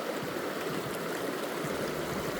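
River water flows steadily in a broad, continuous rush, close and even throughout with no voices.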